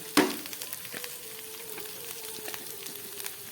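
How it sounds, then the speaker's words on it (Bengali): Spices and vegetables fry together in a pan with a faint, steady crackling sizzle after one sharp knock at the start. "এবার দিয়ে সব কিছু আমি একসঙ্গে মশলাটা একটু ভেজে নেব"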